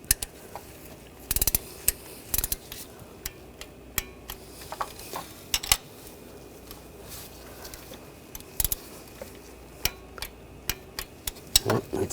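Torque wrench tightening the coolant outlet bolts on a Buick Encore (2013–2022), heard as sharp intermittent ratcheting clicks and taps in short bursts over a quiet background.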